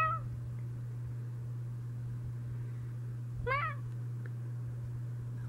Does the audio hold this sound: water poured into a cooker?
no